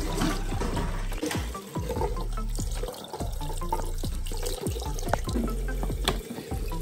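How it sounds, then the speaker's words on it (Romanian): Tap water runs and splashes steadily in a bathroom sink while a flower pot is washed, with uneven sloshing and knocks of the pot against the basin, close and moderately loud. "Am ajuns la baie, spălăm ghiveciul. După care punem apă curată și proaspătă."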